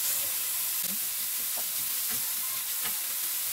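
Carrots dropped into a pan where garlic and onion are frying give a dense, continuous hiss and sizzle, close and even, with a few soft knocks and no talking.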